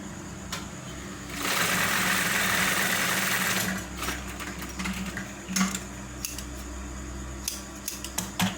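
A sewing machine stitches a slanted trouser pocket, running loud and steady for about two seconds before stopping, followed by clicks and fabric handling noises close by.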